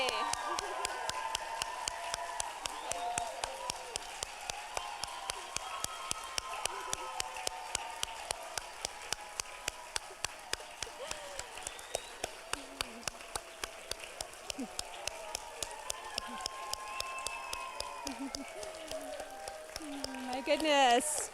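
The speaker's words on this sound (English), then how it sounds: "Let's have a round of applause for all the students here today." A ceremony audience applauds students at the ELL Healthcare Pathways recognition event, a long, even wash of many hands clapping that continues steadily, slightly distant, with voices murmuring underneath.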